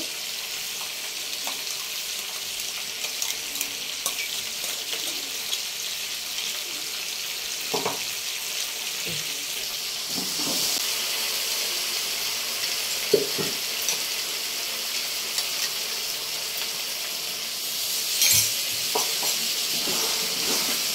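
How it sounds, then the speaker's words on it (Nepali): Ginger-garlic paste and ground masala frying in a pan for a Nepali chicken curry, giving a steady broadband sizzle that runs the whole time with brief stirring scrapes and clinks, alone with no talk. "मजाले भुट्ने हो यो मसला नभुट्नुसम्म।"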